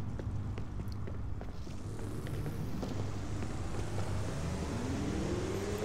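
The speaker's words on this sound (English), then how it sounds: "I can literally hear every single vehicle right above me." A steady, muffled rumble of traffic overhead, heard from a tunnel below the street in the video game Gangstar New Orleans, with one vehicle's engine whine rising as it passes.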